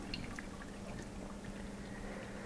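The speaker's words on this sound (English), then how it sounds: "I like to take some hot water that's right around 170 degrees, 160 I mean, and just rinse off the bag as much as I can" Hot water around 160 degrees pours over a grain bag during stout brewing, a soft, continuous splashing and dribbling with light drips, faint and close.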